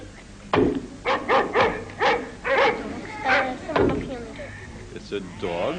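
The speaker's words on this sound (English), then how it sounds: "It's a dog." A dog barks, yips and whimpers in a rapid series of close, excited vocalizations with a tonal whine near the end, set over a low background hum.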